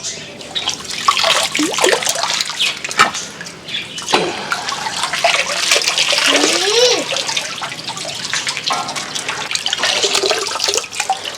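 Water gushing and splashing as fresh water is poured into a home fish tank during a full water change, a steady rushing flow with gurgles and occasional knocks.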